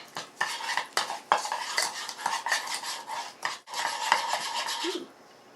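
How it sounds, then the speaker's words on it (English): Pork seasoning rub mixed by hand in a bowl, close rhythmic scraping and rubbing strokes with brief pauses, ending in quiet, no talk. "so I'm just going to mix this up really good"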